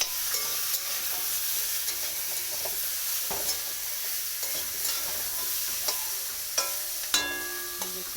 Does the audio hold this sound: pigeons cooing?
no